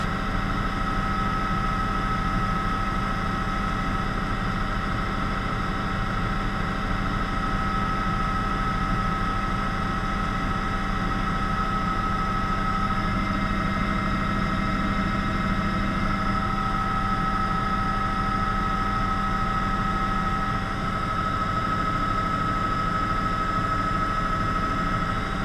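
Steady, loud engine and rotor drone from a Bell 206 helicopter in flight, heard from inside the cabin, constant and unbroken throughout with no talk over it.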